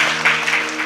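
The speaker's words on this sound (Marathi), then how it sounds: "यांच्यासाठी एकदा जोरात टाळी वाजवा" Crowd at a Marathi kirtan gathering clapping loudly, a brief dense burst of hand claps with a low hum underneath.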